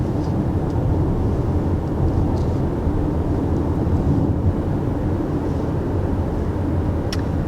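A 2020 Honda CR-V with a continuously variable transmission accelerates, its steady engine drone and road roar holding an even, unbroken pitch throughout, loud and close from inside the cabin with no talk.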